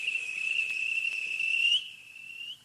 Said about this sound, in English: At last, the guard blew his whistle,